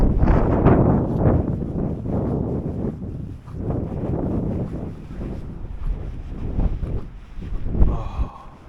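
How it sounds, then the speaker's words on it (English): Strong gusty wind buffeting an outdoor microphone at a trucking yard, a loud low rumbling roar that surges and fades continuously, with no speech. "It's a bit windy"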